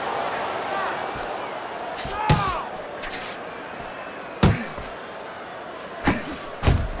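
Punches thud in a realistic boxing simulation of prime Lennox Lewis against prime Vitali Klitschko, with several sharp impacts spaced a second or two apart over a steady crowd murmur.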